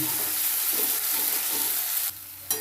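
A spoon works through a sizzling pan of tomato with a ground paste of coconut, poppy seed and onion. The frying hiss is continuous, scraping sounds come at intervals, and everything cuts off sharply near the end.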